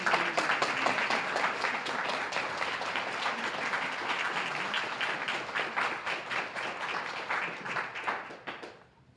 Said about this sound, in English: Let's everybody stand and give them a round of applause.